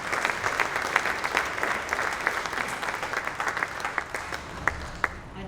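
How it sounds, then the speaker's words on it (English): Audience applause at a Cincinnati jazz hall of fame ceremony, a lively sustained burst of many hands clapping with individual sharp claps popping out, fairly close and filling the room with no speech over it. "A round of applause for Esther."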